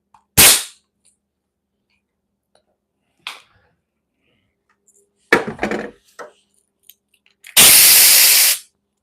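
Compressed air blasts dust out in a workshop, with a short sharp burst first and a longer hissing blast at the end. Scattered clicks and clatter of tools being handled come in between, and nobody speaks.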